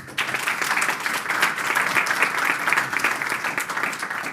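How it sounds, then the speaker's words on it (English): Sustained audience applause after a conference talk at a developer event, a steady, even wash of clapping from a room of listeners without any talk over it. "A big round of applause, please."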